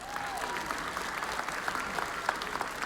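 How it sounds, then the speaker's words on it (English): A crowd at the Miss Indian World talent competition in Albuquerque applauds, a steady wash of many hands clapping at once that holds for the whole stretch. "Give yourselves a big round of applause"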